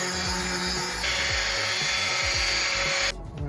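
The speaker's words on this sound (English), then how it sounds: "Now we gotta sand this stuff down." A power sander or grinder works down a hardened fiberglass bracket under restoration, a loud, steady high whine with repeated dips and swells in pitch as it bears on the surface, cutting off abruptly near the end.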